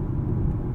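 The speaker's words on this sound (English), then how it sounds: "I'm going to go over these bumps with the suspension in normal mode" A 2020 Maserati Quattroporte S rolling over road bumps with its suspension in normal mode, heard as a steady low rumble of tyres and cabin road noise, close and even throughout.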